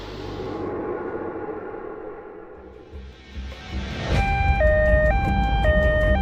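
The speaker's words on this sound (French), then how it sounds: "une voiture de la gendarmerie roule à toute vitesse, sirène hurlante" A French gendarmerie car's siren blares loud and close after a stretch of rumbling road noise, its two-tone wail alternating steadily as the vehicle races at high speed.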